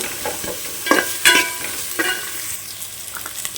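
Onions frying and being stirred in a pan for a bondas (squid) sukka, with soft steady sizzle under intermittent scraping stirs and a couple of louder spoon clatters, close and fairly quiet, no talk.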